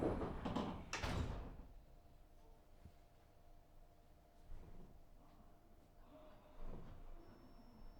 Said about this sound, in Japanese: 線ドアが閉まります。